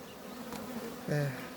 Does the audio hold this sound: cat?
no